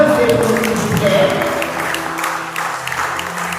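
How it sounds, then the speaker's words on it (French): A church women's conference audience claps as committee members are introduced, a sustained crowd clapping under a brief low voice near the start, easing slightly in the second half. "Applaudissez pour s'il vous plaît."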